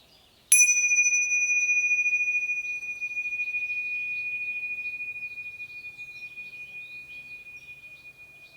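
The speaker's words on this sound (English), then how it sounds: "So feel it again in the resonance of the bell." A single bell is struck once with a clear, bright onset, then its pure ringing tone sustains and slowly fades over several seconds in an otherwise quiet space, with no talking.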